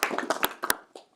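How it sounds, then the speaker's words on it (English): A few hands clap for a speaker at a CISO roundtable conference, a sparse handful of close, uneven claps that quickly dwindle to a single last clap. "Let's give him a round of applause."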